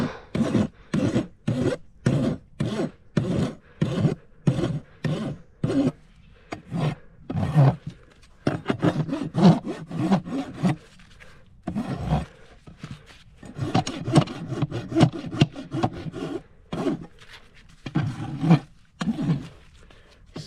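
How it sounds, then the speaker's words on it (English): A brand new hoof rasp, used smooth side down, files a horse's hoof in strong, rhythmic rasping strokes. The strokes are steady and close at first, then come in more uneven bursts with short pauses. "this is a brand new rasp, so I'm just going to use the smooth side because it's plenty sharp"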